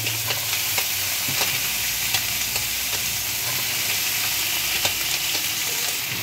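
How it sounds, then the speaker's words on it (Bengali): Chopped winter vegetables, among them potato, flat beans, radish and cauliflower, sizzle among frying onions in a pan, with a constant hiss and scattered light scrapes and clicks throughout, close and fairly loud, without speech. "এবার আমি এর মধ্যে বাকি সমস্ত সবজিগুলো ছোট করে কেটে রেখেছিলাম সেগুলো সব দিয়ে দিচ্ছি"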